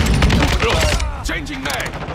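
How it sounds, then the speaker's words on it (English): Gunfire in the video game Call of Duty MW2, loud rapid shots in close succession over a busy match, with voices shouting over the shooting. "Taking it, taking fire!"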